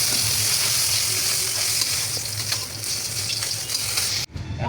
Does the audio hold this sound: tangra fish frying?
yes